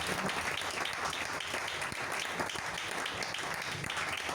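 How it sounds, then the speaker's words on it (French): A church congregation bursts into sustained applause in praise of the Lord, a dense, steady wash of clapping that holds at an even, fairly loud level throughout, with no break and no voices rising above it. "Acclamons le Seigneur pour son choix souverain."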